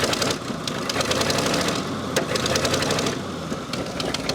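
An old Ford big block engine in an abandoned 4x4 idles roughly, with an uneven, ticking chug and a close, loud mechanical rumble that runs continuously throughout.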